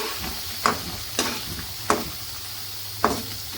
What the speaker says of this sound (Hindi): ये मैंने 2 प्याज और काट के रखे थे, ये चले जाएंगे इसके अंदर। इसको हम फ्राई कर लेंगे अच्छे से।